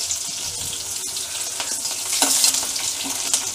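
Crushed garlic drops into hot oil in a pan and fries with a bright, crackling sizzle that swells midway, with stirring noises mixed in. No voices.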